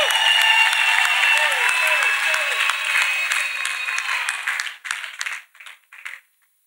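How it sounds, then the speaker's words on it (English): Church congregation claps loudly and continuously in a dense wash of applause, then it thins into a few scattered claps and stops; voices are faint beneath it. "Let us clap louder"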